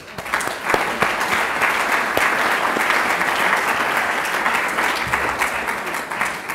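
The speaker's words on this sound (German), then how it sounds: "einen allgemeinen Applaus" A crowd at a citizens' discussion forum on trust in politics gives sustained, dense applause, with an even wash of many hands clapping throughout.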